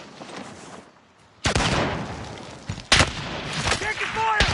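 Video game gunfire on the Caldera map bursts in suddenly after a quiet stretch, with a sharp loud shot and more rattling reports over busy battle noise. Brief voice chatter mixes in.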